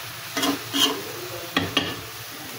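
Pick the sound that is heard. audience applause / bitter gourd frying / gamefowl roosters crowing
bitter gourd frying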